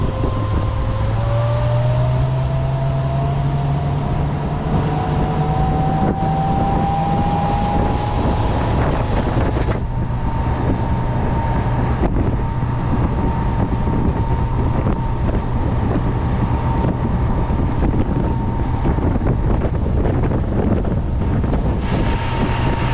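A Lund Pro-V 1900 boat's outboard engine idles steadily after warming up, a continuous loud drone with a pitch that rises early on, mixed with heavy wind buffeting on the microphone outdoors.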